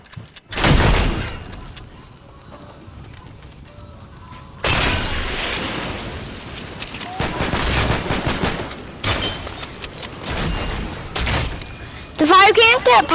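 Gunfire in the Fortnite video game comes in several loud bursts of shots and blasts across the clip, with players talking over and between the shooting.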